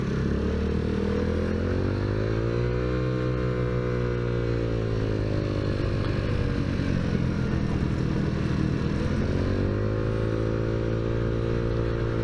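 Small Tao Tao motorcycle engine running close by, a steady droning idle whose pitch dips and rises gently twice as the throttle is eased, loud and continuous with no talk.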